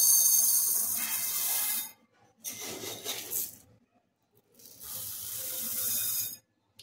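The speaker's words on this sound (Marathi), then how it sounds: "इथे 2 ग्लास तांदूळ मी स्वच्छ धुवून घेते आणि भिजत ठेवते अर्ध्या तासासाठी" Rice rinsed in water in a pot, sloshing and rustling grains with splashy bursts, pauses of near silence between two washing rounds, close up and without talk.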